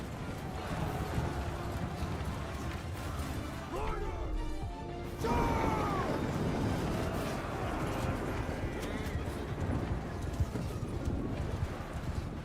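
Horses galloping in a video game battle, a dense rapid clatter of hooves with crashes and a whinny mixed in, growing louder midway and continuing steadily to the end.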